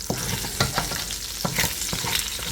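Half a stick of butter sizzles and spits in a hot pot over medium heat for chicken and dumplings, a dense steady crackle broken by a few sharp pops and light knocks of a spoon against the pot.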